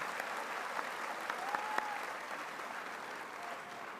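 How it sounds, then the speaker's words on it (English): Steady applause from a college commencement crowd recognizing board members, even and moderately loud, with a few sharper individual claps standing out. "Please give them a round of applause."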